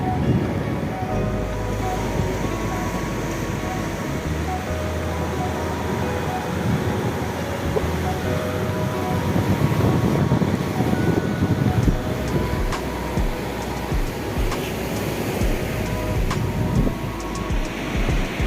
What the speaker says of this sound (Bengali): সমুদ্রের গর্জনটা খালি শুনুন একবার